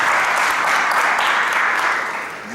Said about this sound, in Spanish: Le vamos a dar un cariñoso aplauso y agradecer su pasión y su entrega